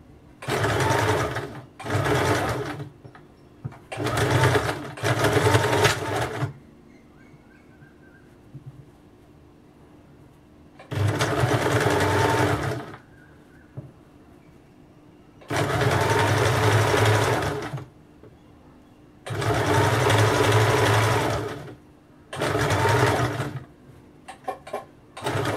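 Sewing machine stitching a simple pattern blouse, running in loud bursts of a few seconds each with short quiet pauses between runs, close and clear.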